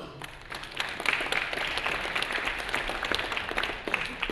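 An audience at a design and technology talk claps, a modest, somewhat sparse round of applause with individual claps audible, building slightly after the first second and staying fairly quiet.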